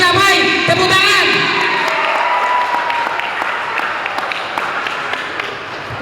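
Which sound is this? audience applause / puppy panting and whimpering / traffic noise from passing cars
audience applause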